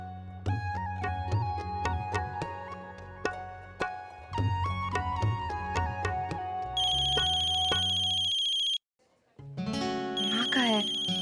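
A mobile phone ringtone plays loudly at close range in a Hindi TV drama household, a repeating electronic melody of bright tones that stops briefly, then resumes with a different warbling tone.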